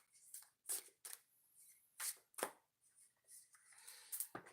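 Tarot cards shuffled by hand in a series of crisp, close riffles and slaps, irregularly spaced with brief quiet gaps, no talking.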